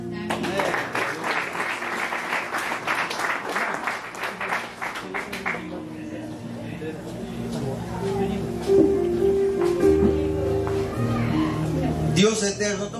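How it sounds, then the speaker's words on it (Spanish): Wedding guests applaud after the ring blessing at a church ceremony, a burst of clapping for about five seconds, then fading into murmurs, a held tone and a spoken voice. "Fuerte aplauso"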